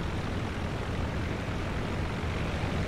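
A steady droning engine roar from an F.E.2a biplane of the Royal Flying Corps in the flight simulator game Rise of Flight, continuous and even throughout with no talk.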